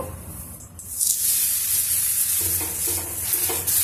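Bobbatlu flatbread filled with rava kesari frying in oil: a loud, close sizzle swells up and holds steady, with a few soft clacks as it is flipped, and no talk.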